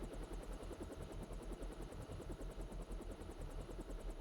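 Rapid, steady thudding of helicopter rotor blades with a whining high hum in the PC game Deus Ex: GOTY, a constant drone heard without any voices.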